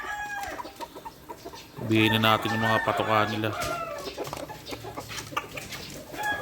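Farm chickens being given their daily feed, breaking into a loud burst of clucking and a drawn-out crow-like call in the middle, with someone talking nearby before and after.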